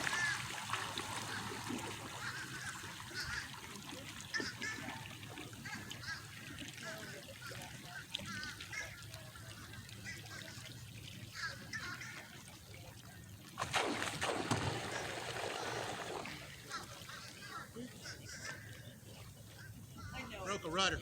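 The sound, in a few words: Vaquita electric motor driving SUP board with outrigger on water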